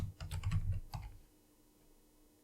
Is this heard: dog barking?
no